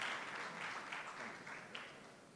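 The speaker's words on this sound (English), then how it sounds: "may I request you to please give a loudest round of applause once again for all our panelists and the moderator" An audience at a Mumbai business conference applauds the panelists and moderator after a session. The clapping is faint and distant, a soft even patter that slowly fades.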